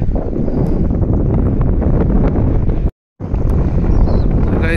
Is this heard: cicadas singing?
no